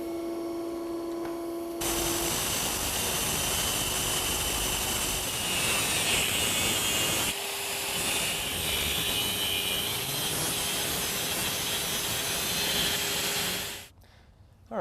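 Electric motor shafts are cut down for a dual-motor electric vehicle drivetrain. A loud, continuous, harsh whirring grind starts after a faint hum, dips briefly midway, resumes, then cuts off abruptly near the end.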